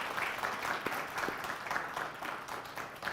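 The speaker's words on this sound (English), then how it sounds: "Please give a round of applause to our panelists." Audience at a mental health information session applauding panelists, a brief even burst of clapping from a modest crowd, with no speech over it.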